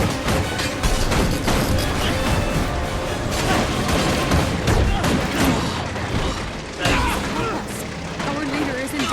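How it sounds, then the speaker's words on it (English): Rockets fire in rapid volleys in Guild Wars 2, a dense barrage of booms and crackling blasts layered with battle noise, with talk and voices mixed in over the bursts. "Fire rockets."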